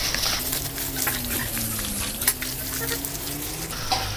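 Raw chicken pieces being mixed by hand into a cream and spice marinade, a continuous wet squelching and slapping texture close up, with a faint tonal hum behind it.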